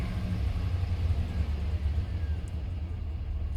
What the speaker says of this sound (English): The motor sounds good. It has a slight misfire